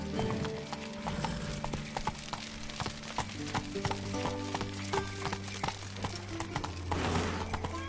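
Roach, a horse in The Witcher 3, gallops in a quick, irregular clip-clop of hooves over layered game sound and music, busy and fairly close throughout.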